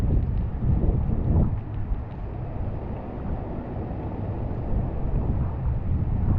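Typhoon wind gusts tear along Rua de Évora, a street in Taipa, Macau, producing a loud, continuous roaring rush with buffeting surges throughout and no talking.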